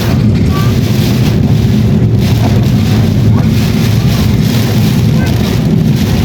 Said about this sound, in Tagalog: Because yeah it's so heavy rain. It's so heavy.